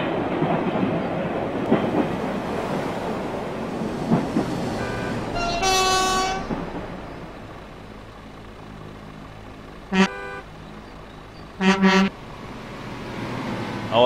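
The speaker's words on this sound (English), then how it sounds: "Oh, we have trains!" Trains passing in Euro Truck Simulator 2, a steady rumbling rail roll with a loud train horn toot in the middle and two more short horn blasts later, over continuous truck engine drone.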